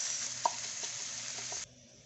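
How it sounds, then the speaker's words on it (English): Onions frying in a pan with leftover oil after ginger-garlic paste has cooked down, a steady close sizzle with a light clink or stir partway through, stopping abruptly near the end. "So let's start frying in our onions."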